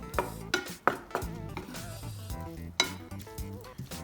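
Glass noodles being stir fried with soy sauce for Korean japchae: a utensil scrapes and clanks against the pan in a few sharp knocks over a soft, steady sizzle, close up, with no talking.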